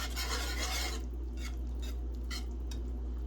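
A utensil scrapes and rasps against a pan while chicken Alfredo lasagna ingredients are mixed, a steady gritty stirring that breaks into short separate scrapes toward the end, close and alone.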